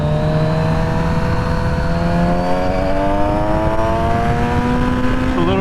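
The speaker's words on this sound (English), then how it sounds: "Definitely hear the exhaust a lot more now" Kawasaki Z900RS motorcycle exhaust revving loudly and steadily, the engine note climbing smoothly in pitch over several seconds, close and continuous with no talk.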